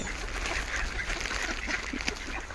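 Hungry ducks quack and honk near a Thai church during a charity visit, a busy flock calling over a steady low background rumble, moderately faint, with no talk heard.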